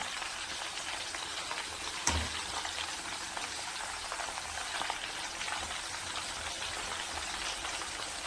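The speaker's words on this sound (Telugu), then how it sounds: "ఇప్పుడు బాగా ఇలా టర్న్ చేసుకున్నాం, ఈవెన్గా ఫ్రై అవుతాయి కదా" Potato chips sizzle in hot oil while being turned for even frying, a steady, quiet crackling hiss with one brief knock of the utensil partway through.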